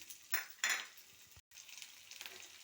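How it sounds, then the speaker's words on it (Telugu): Onion and garlic hit hot oil in a kadai for a paneer curry, with sizzling bursts and a few clinks of a spoon against the pan, heard close up without talk. "ఆయిల్ వేసుకొని ఆయిల్ హీట్ అయ్యాక ఆనియన్, వెల్లుల్లి"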